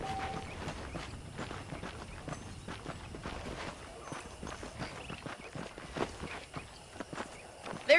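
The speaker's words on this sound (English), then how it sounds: "The horses are saddled up over here." Horse hooves clip-clop in the Western video game Red Dead Redemption, a steady quiet rhythm of footfalls on dirt that continues throughout at moderate distance.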